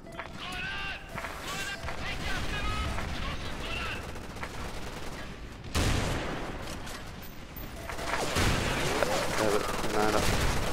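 CZ 700 bolt-action rifle shots in a first-person shooter game, sharp cracks with pauses between them amid gunfire and game noise, with someone talking over the action.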